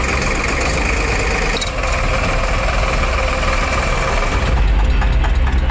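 A tractor engine idles at a toll plaza on the Jind–Patiala highway where women are being trained to drive tractors, a loud, steady low chugging that continues throughout, with a slight shift in tone near the end.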